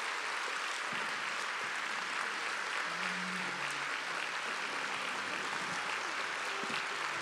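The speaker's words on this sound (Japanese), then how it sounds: "たくさんの皆さんが大きな拍手、そして手を振ってくださっている方もいらっしゃいます" A large crowd applauds at the close of the Kagoshima Jazz Festival 2021 Winter Session, a continuous, even roar of clapping with faint low murmurs underneath.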